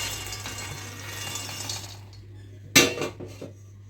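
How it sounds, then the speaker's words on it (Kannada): A kadai is set down on a gas stove with a sharp metallic clank, followed by a few smaller clinks, after a stretch of faint kitchen clatter and low hum. "ಈಗ ಕಡಾಯಿ ಇಟ್ಟೀನಿ, ಗ್ಯಾಸ್ ಹಚ್ಚೋಣಂತ."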